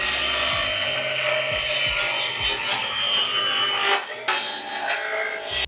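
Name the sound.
old Craftsman table saw cutting wood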